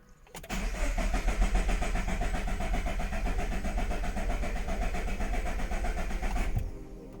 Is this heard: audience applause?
no